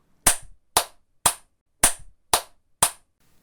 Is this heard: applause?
yes